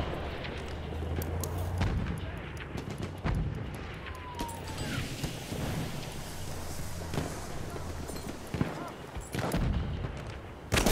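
Mortar and artillery fire in Battlefield 1 multiplayer on Xbox One, a run of heavy booms and blasts scattered across the scene, some near and loud, others distant, over a constant battlefield rumble.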